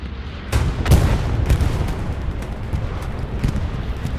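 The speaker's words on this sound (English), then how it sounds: "Pathfinder's last bombing run." Bombing run explosions in the World War II shooter Hell Let Loose, a heavy sustained rumble of overlapping booms with sharper blasts around one and one and a half seconds, then a continuous distant roar of impacts, with no talk.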